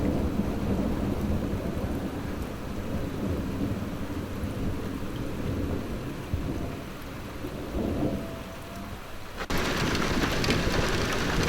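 Thunderstorm over north-west England in June: continuous rain hiss with low rolling thunder in the background, ending in a sudden shift to brighter, louder rain noise near the close.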